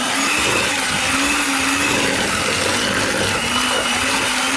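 An electric hand mixer beats butter with powdered sugar, a loud, continuous motor whine with a slightly wavering pitch, close up and unbroken, with no voices.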